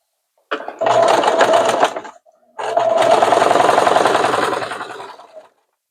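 A sewing machine stitches a seam in two steady motorized bursts, the first about a second and a half long, then a brief pause, then a longer run that slows and stops.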